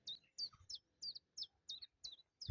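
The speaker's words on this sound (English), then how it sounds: "Birds are singing still." Birds sing beside a canal in the countryside, a quick series of faint, high chirps repeating at a regular pace with short gaps between them.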